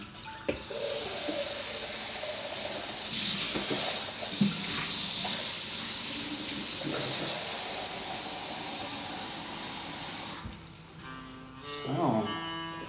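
Warm water runs from a kitchen tap in a steady, close hiss for about ten seconds while dough is prepared, then stops as a person talks.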